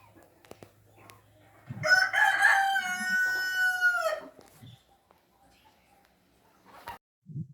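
Chickens and a rooster on a poultry farm with five-month-old hens mixed with cockerels: one loud, close rooster crow rises and holds, with soft clucks and a few scattered bird calls before and after it.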